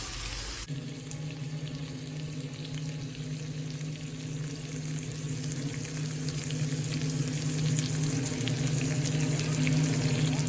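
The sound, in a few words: asparagus and zucchini sautéing in a pan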